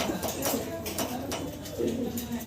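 Fancy pigeons coo at a market stall, with soft repeated cooing close by and some voices in the background.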